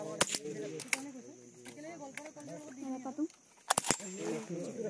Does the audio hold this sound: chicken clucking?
no